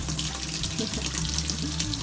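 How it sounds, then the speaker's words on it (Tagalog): Water running steadily into a washing machine as it fills for a load of laundry, a continuous close rushing hiss with a low hum beneath, no talk over it. "Lalagay na po siya ng tubig."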